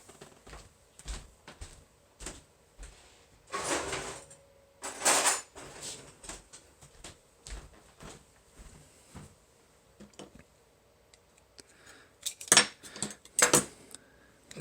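Metallic clinks and rattles of cutlery being rummaged through in a drawer to find a butter knife, irregular sharp clatters with a few louder bursts, close and fairly quiet.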